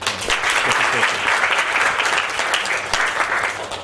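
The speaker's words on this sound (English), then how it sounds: "let's give him a big round of applause for being here" Audience at a training seminar breaks into a full, dense round of applause, sustained and steady for several seconds with the room's clapping close and loud.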